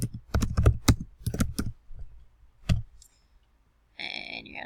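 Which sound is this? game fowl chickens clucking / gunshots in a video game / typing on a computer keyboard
typing on a computer keyboard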